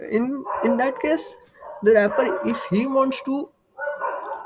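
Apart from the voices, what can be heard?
dog barking in the background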